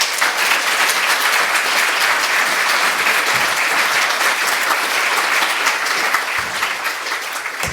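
Warm, sustained audience applause fills a lecture hall as a speaker is welcomed at a Birkbeck evening talk, dense steady clapping throughout with no voices on top.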